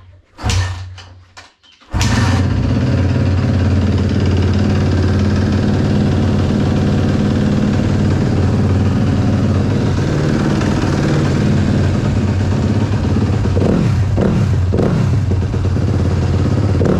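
A 2015 Suzuki RM-Z 250 motorcycle engine, just after a valve adjustment, clatters for a moment, then catches and settles into a loud, steady idle close by that holds to the end, with a few brief revs near the finish.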